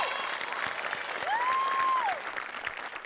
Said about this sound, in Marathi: स्वातीसाठी जोरदार टाळ्या